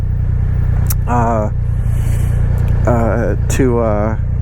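Triumph Rocket 3 GT motorcycle riding down a road, a steady low engine drone heard from the bike throughout while someone talks over it in several bursts.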